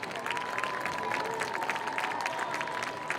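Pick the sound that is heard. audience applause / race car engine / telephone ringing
audience applause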